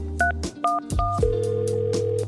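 A phone keypad sounds as someone dials 911: several short clear touch-tone beeps in quick succession, then a longer sustained tone, close and alone.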